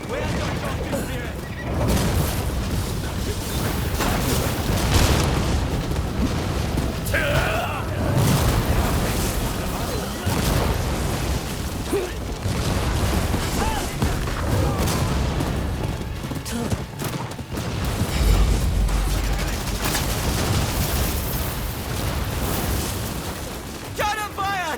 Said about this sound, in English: Cannon fire! Take cover!